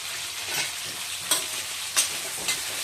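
Onions and sesame seeds fry in a pan with a steady, close hissing sizzle, broken by a few distinct scraping stir strokes.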